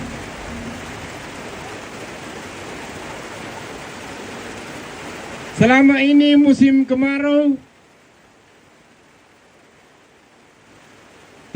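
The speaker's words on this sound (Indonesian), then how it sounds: "tapi tiba-tiba hujan ini malam." Heavy night rain falls in a dense, steady hiss. Someone talks briefly over it, and then the sound cuts to near silence.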